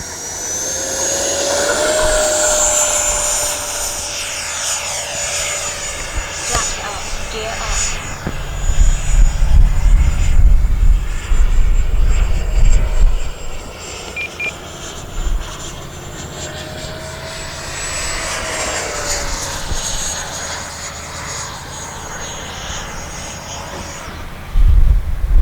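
An FMS F-18F 70mm electric ducted-fan RC jet spools up with a rising whine and roars into a takeoff run with flaps set, loudest mid-run before easing into a steady, more distant whir as it climbs; a person talks briefly over it.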